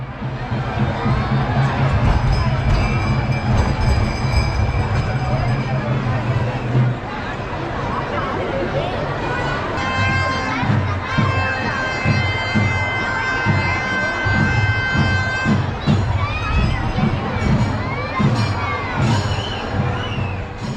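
A dense festival crowd roars around a temple chariot being hauled through the streets at the Thiruvarur chariot festival, with continuous hubbub, shouts and cheering, talk nearby and whistles or horns cutting through over the din.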